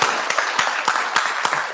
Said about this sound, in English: Could we please have one more round of applause for all the speakers today?